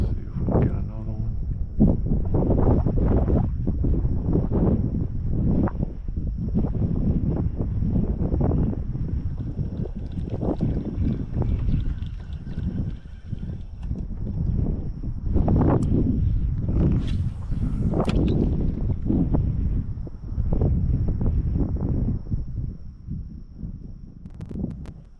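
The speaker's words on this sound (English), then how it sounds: "The wind is horrible today." Gusty wind buffets the microphone on a fishing boat in a coastal cove, heavy low rumbling blasts surging and easing continuously, with someone talking intermittently beneath it.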